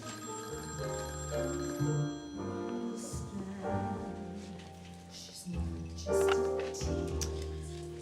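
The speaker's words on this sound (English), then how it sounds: "Hey, Madge, phone call" A telephone bell rings repeatedly in a crime-thriller scene, its tones sitting under background music and other room sounds at a moderate level.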